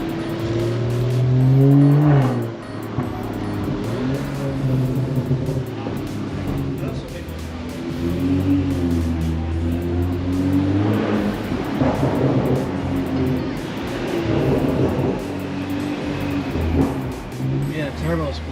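A BMW 435i M-Sport with an Akrapovic exhaust revs loudly and steadily up and down, with turbo spool in the mix and voices talking over the engine throughout.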